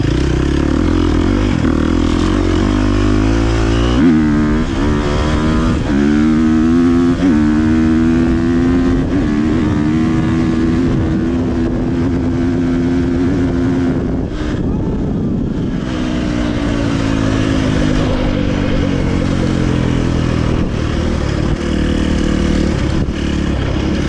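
KTM 350 XC-F dirt bike with a tune, close and loud, engine pitch climbing through the gears as it accelerates hard, then settling and revving again under wind rush.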